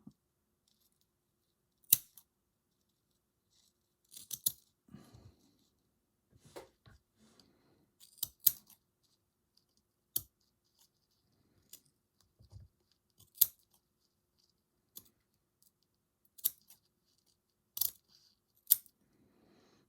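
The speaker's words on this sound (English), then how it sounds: "Good scissors are a must." Sharp, sparse snips of scissors cutting a doll's hair, about a dozen crisp clicks spaced irregularly, close and clear against near silence.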